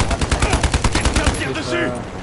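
Rapid bursts of automatic gunfire from a video game firefight, loud and close with a steady stuttering rhythm that thins out toward the end as other game sounds take over.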